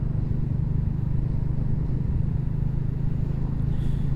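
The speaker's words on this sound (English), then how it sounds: "Sunset ride on a classic 350." A Royal Enfield Classic 350 motorcycle on a sunset ride gives a steady low thump from its single-cylinder engine, with wind rush and rumble heard from the rider's position, loud and continuous without talk.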